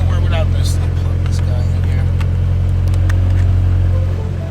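A project car's engine idles steadily, close and loud, with an even low rumble and a slight shake to its rhythm while someone talks over it.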